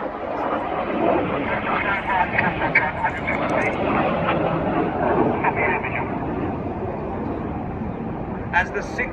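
Red Arrows display jets flying the Cyclone formation at a 2014 air show, a loud, steady broadband roar of jet engines that stays close and powerful for about nine seconds with slight swells in intensity.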